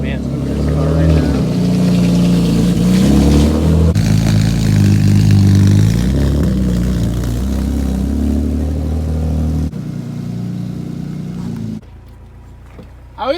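A BMW E36 car's engine rumbles loud and close as it is driven in a garage, with deep revving swells that drop to a quieter idle near the end while people talk.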